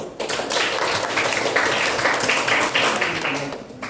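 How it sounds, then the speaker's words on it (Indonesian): A class clapping for a group of students, sustained crowded applause from many hands in a room, steady and loud before tapering slightly at the end. "Tepuk tangan dulu."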